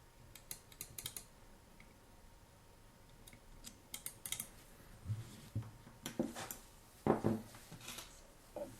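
A cheap imitation L&MAO morse code CW paddle is pressed during calibration, giving sparse, quiet mechanical clicks at irregular intervals that grow slightly busier and sharper toward the end, with no voices.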